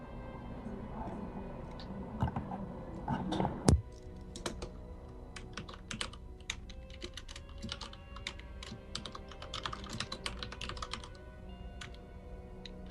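A computer keyboard clatters with fast, irregular bursts of keystrokes during a game showmatch, crisp clicks close to the mic over faint background sound, with a heavier thump near the start.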